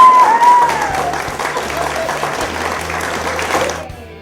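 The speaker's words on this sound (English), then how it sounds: "Let's give it a big round of applause." Audience applause at a television show, broad clapping from a crowd over a low musical tone and a brief whistle-like note, fading toward the end.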